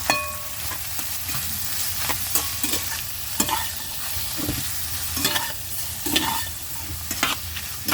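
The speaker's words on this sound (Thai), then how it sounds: "ใส่ในส่วนของ ผักลงไปผัดเลยนะคะ" Meatballs and mixed vegetables stir-fry in a wok, with a constant hiss of frying under repeated scraping and clattering of a spatula against the pan, busy and close, no talking.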